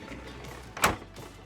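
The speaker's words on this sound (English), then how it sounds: "Now this is a closing door." A door closes inside a 2026 Tiffin Open Road Allegro 36 LA motorhome, a single brief thud-click standing out against a quiet room tone.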